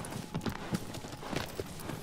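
Horse hooves galloping in Shadow of the Colossus, a steady clip-clop rhythm of repeated thuds close by, with game ambience underneath and no talking.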